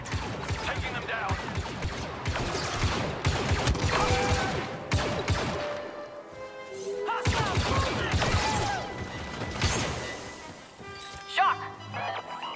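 Blaster fire in Star Wars Battlefront II erupts in dense, rapid bursts mixed with crashes and impacts, loud and close, continuing across the stretch with a short lull midway, amid battle noise and occasional shouted voices.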